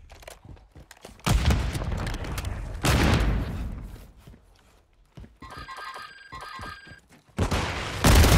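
Chaotic Call of Duty Warzone combat in Urzikstan Resurgence, with loud bursts of gunfire and heavy blasts consistent with a grenade explosion, broken by a short electronic ringing tone before another loud blast closes.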